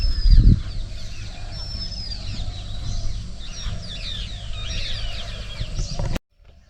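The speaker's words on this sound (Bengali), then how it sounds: "জঙ্গল থেকে ভেসে আসছে পাখির কিচিরমিচির আর জীবজন্তুর আওয়াজ" Birds call from the jungle beside a hanging bridge over a river at Pobitora Wildlife Sanctuary. Repeated chirps and clucking calls ring out at moderate distance over a low, rumbling outdoor background that briefly thumps at the start.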